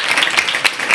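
Audience applause for a student at a school event in Bihar, a steady dense burst of many hands clapping that fills the whole moment without any talking.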